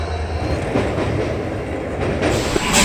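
Hampi Express train running on rails on the Vijayapura route, a steady loud rumble of wheels with clickety-clack rhythm and rail noise throughout, no talking.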